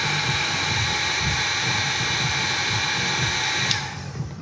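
A hot-air heat gun or similar blower shrinks tubing over a thermistor head, giving a steady, loud whooshing roar that holds until a click near the end, then drops away.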